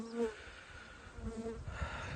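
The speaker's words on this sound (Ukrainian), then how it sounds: "Бджоли дуже сердиті, взятку немає. Бджоли сердяться." Steady insect buzzing from many angry honeybees at an apiary, a continuous droning hum that rises and swells toward the end, close by with no voices.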